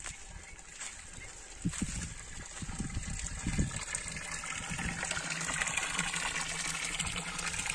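Clear water on a ranch property gushes and splashes steadily through a pipe, a continuous rushing flow with bursts of splashing, moderately near and without talk.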